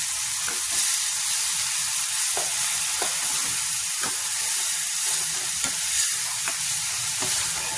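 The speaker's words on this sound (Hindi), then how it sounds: "अब इसको थोड़ा सा भूनेंगे" Spinach paste frying with browned onions in a pan, a constant loud hissing sizzle punctuated by regular scrapes of a stirring spoon, alone without talk.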